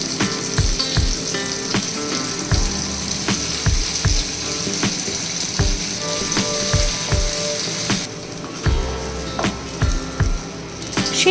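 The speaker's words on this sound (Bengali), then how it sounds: "অন্য একটি কড়াইতে সাদা তেল ও ঘি দিয়ে একে একে গাজর, বিনস, ফুলকপি, মটরশুঁটি, ক্যাপসিকাম, কাজু, কিশমিশ সবকটাই ভেজে নিলাম" Carrots, beans, cauliflower, peas, capsicum, cashews and raisins fry one after another in white oil and ghee in a kadai, giving a steady close sizzle with repeated low thumps and clatters as pieces are added and stirred.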